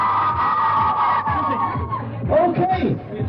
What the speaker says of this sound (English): Our contestants, please give more a big round of applause.